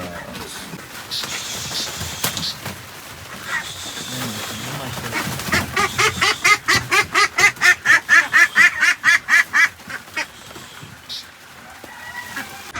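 Ducks quack in a rapid run of loud, evenly spaced calls at a farm where they are loaded up for sale, with other birds and background noise around them.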